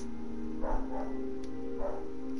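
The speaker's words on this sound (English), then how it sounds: "If I could tell this guy to stop barking at you, I would." A dog barks in a few short, muffled yaps in two clusters, faint and somewhat distant, over a steady electronic hum.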